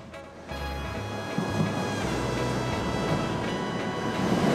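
A Chinese high-speed bullet train rumbles loudly nearby, with a low steady drone and rising motor whine as it rolls into Nanning station.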